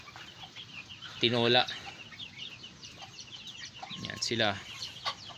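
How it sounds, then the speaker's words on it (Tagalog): Pet chickens, a flock of six young birds, cluck and squawk in two short loud outbursts over a noisy yard background, with a person speaking nearby. "Ayan yung mga manok ko na pasaway."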